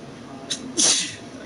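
A single sneeze from someone suffering pollen allergies, a faint intake followed by a sharp, loud burst that trails off, heard close and alone.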